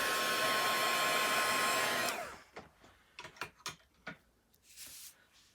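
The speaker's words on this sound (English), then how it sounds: "I'm just going to give this a quick little blast of the heat gun" Crafting heat gun blowing hot air over freshly applied ink on paper, a loud steady broadband whoosh that stops abruptly after about two seconds, followed by faint scattered clicks and handling taps.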